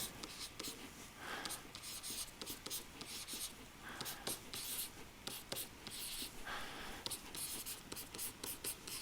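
Marker or pen strokes scratch across paper or a board as math for synthetic division of polynomials is written out, with quick, faint, irregular scribbles close to the mic.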